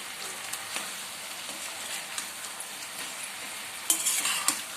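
Sliced onions fry in a pan for Chettinad chicken fry, with a soft, continuous sizzle and repeated spoon scrapes and clinks against the pan, louder toward the end.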